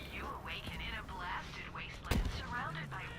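Enemy shotgun fire in the video game Borderlands 3, one sharp heavy blast standing out midway through ongoing game noise and whiny tonal effects, with someone talking softly around it.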